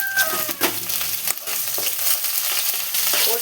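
Sliced big onions fry in hot oil with curry leaves in a pan, giving a steady loud sizzle with stirring clatter, while a rooster crows faintly in the background.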